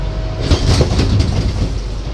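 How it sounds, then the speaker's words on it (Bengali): Silkcity Express pulling out of Mirzapur railway station, a steady low rumble of the moving train with faint clatter throughout, heard up close from on board. "আর এরই মাঝে ট্রেনটা ছেড়ে দিল মির্জাপুর রেলওয়ে স্টেশন"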